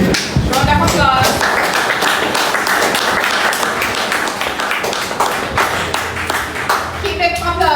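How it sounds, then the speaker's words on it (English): An audience claps in a sustained round of applause with dense, rapid hand claps, while someone speaks loudly over it. "Round of applause."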